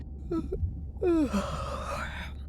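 A character in the video game Beyond Blue gives a short breathy intake followed by a longer, drawn-out voiced yawn that falls in pitch, close and clear over a low steady background hum.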